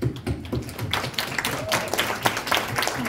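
An audience applauds at a Paris press conference for Guardians of the Galaxy Vol. 3, with a dense, steady patter of claps that fills the room and some faint voices underneath.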